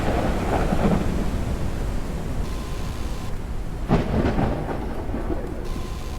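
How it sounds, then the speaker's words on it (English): A thunderstorm in the video game Forever Skies: steady heavy rain hiss fills the whole stretch, with low rolling thunder and one sharper, closer crack near the middle. "Oh, that storm was short-lived."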